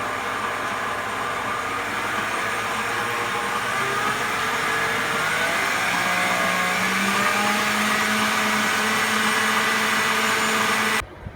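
An electric mixer runs at its highest speed whipping cream in a mixing bowl: a steady, close motor whir with a rising pitch as the cream thickens, holding constant throughout before cutting off abruptly at the end.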